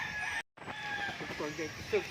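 Chickens on a farm clucking and crowing close by, with a brief dropout early on; a voice talks over the birds for much of the time.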